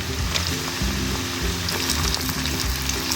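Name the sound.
meat frying with cinnamon and black cardamom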